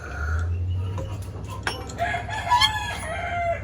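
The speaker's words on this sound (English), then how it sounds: "We always have a neighborhood rooster or two." A rooster lets out a long crow, fairly close and loud, rising and falling across several seconds against a low steady hum.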